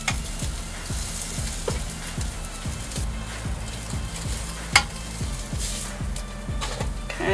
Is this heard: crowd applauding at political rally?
no